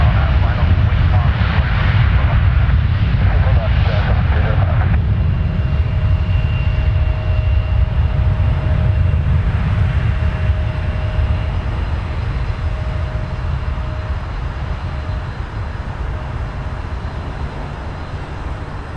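A jet airliner powers up for takeoff at Toronto Pearson airport, a loud, steady low roar holding throughout, with a faint tonal whine above it and radio voices talking over the engine noise.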